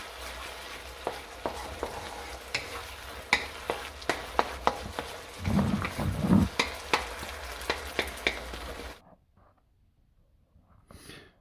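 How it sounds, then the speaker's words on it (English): Diced Roma tomatoes simmering in a pan give off a steady low sizzle, broken by frequent clicks and scrapes of stirring, a louder bubbling stretch midway, then a sudden drop to near silence. "Now she started simmering the tomatoes here"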